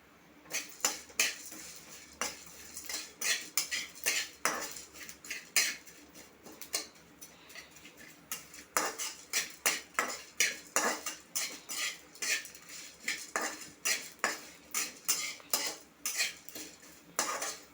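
Dry-roasting chillies, garlic, tamarind, asafoetida, toor and chana dal and sesame in a pan for a greens spice powder: a long run of quiet, rhythmic metal spatula scrapes and clinks against the pan, no talking.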